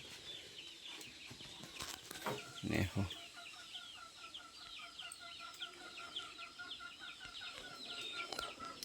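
Live chickens being readied for sale at a market keep up steady clucking and chattering calls throughout, with a short spoken remark partway through.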